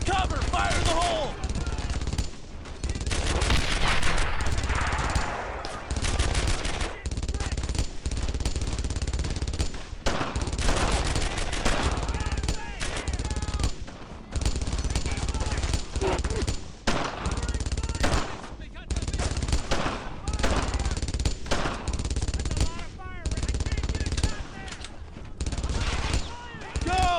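Dense bursts of rifle and machine-gun fire in the World War II game Brothers in Arms: Earned in Blood, with rapid loud volleys and short pauses throughout a village firefight.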